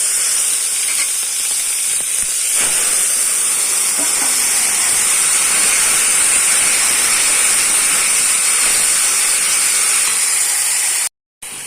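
Sponge gourd sizzles loudly in a hot pan with panch phoron spices and green chillies, a constant close hiss of frying that holds steady for the whole stretch before a brief dropout near the end.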